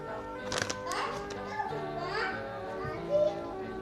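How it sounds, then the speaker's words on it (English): A young child chatters and makes playful vocal sounds nearby, with light knocks and household clatter in the background. "What you hear is my kid, so I'm sorry about that."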